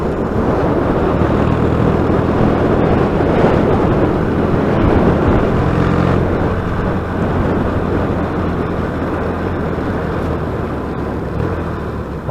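A Yamaha XS650 motorcycle on a test ride gives a loud, continuous engine drone with heavy wind buffeting on the microphone, steady throughout with a slight easing toward the end.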